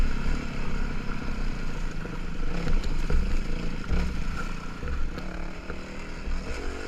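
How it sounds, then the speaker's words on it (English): A heavy Kawasaki KLX 400 dirt bike, a DRZ 400 type, pulls away on a trail loop. Its engine makes a steady, rough drone with some clatter, and no one speaks. "Frank's on the KLX 400, which is a DRZ 400, a very heavy bike"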